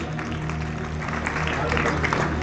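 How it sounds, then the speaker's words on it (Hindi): Students applaud in a school assembly, steady clapping filling the room for a few seconds with a low hum and some voices underneath. "बहुत बढ़िया, ताली बजाएं आप सबके लिए तालियां।"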